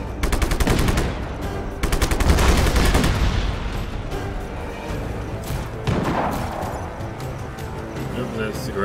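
Rapid automatic gunfire from the video game Just Cause rattles in dense bursts, loudest early on, with explosive thuds and crashes mixed in and a player talking over the action.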